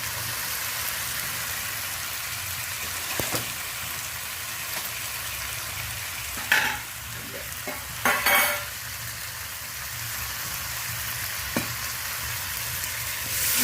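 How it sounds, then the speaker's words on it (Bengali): Boiling hot water is poured into a sizzling sole fish kalia curry, giving a steady frying hiss with a few brief splashing bursts partway through. "এবার আমি ফুটন্ত গরম জলটা অ্যাড করবো"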